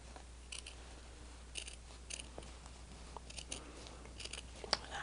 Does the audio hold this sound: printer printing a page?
no